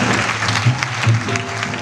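Applause from an audience at a farewell ceremony for diksha initiates in Bagoda, a steady loud wash of clapping filling the short stretch with no talk.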